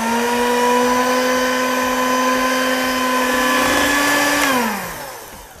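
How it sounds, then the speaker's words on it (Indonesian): An electric mixer whirs at a steady loud pitch while beating yogurt batter, then winds down as it is switched off near the end. "kita akan mixer kembali sampai adonannya tercampur dengan rata"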